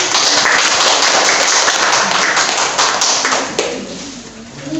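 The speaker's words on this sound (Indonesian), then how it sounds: "Beri tepuk tangan untuk Mbak" Students in an Indonesian language microteaching class applaud the student teacher, loud close clapping from a small group that fills the room and tapers off toward the end.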